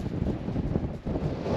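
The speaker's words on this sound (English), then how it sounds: "This is the direction the wind's blowing." Strong wind blowing across an Alaskan spit beside a boat, a steady loud buffeting rush of wind against the microphone with no talking.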